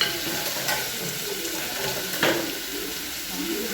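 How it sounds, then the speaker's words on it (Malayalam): Chopped tomatoes sauté in a pan, with a moderate hiss and a few scraping stirs, alongside a watery, running-tap-like wash of sound. The pan noise sits close and fairly quiet, and no voices are heard. "നമുക്ക് അരിഞ്ഞ് വെച്ചിരിക്കുന്ന തക്കാളി വന്നിട്ട് നന്നായിട്ടൊന്ന് വരട്ടി കൊടുക്കാം"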